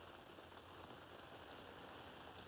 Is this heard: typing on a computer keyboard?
no